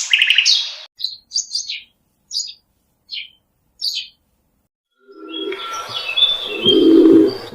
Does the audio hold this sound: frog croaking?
no